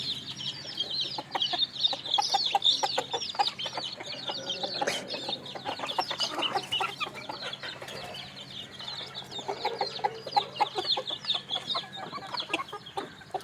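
Several free-range native country chickens cluck and chatter continuously nearby while being fed moringa leaves, a busy, overlapping flock with occasional sharper calls.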